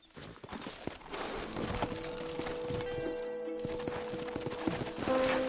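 Hooves clip-clop steadily as horses move in Red Dead Redemption, a continuous rhythmic patter of hoofbeats at moderate loudness with a faint tonal hum in the background.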